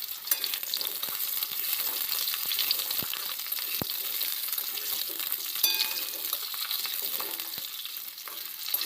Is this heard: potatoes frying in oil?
yes